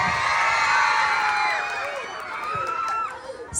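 Audience at a pageant cheering and shouting, many high excited voices and whoops rising together loudly, then easing slightly before another swell.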